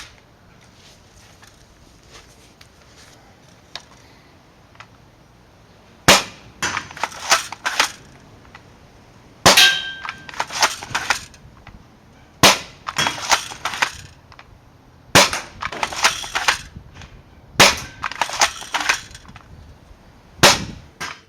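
A Nerf Worker Prophecy blaster fitted with a brass breech fires stock Elite foam darts through a chronograph, giving a string of sharp, loud mechanical shots a few seconds apart, each a quick cluster of snaps and clacks over a quiet background.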